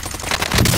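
Loud, dense gunfire from a Call of Duty Warzone firefight in Verdansk, a brief close burst of rapid shots that swells toward the end.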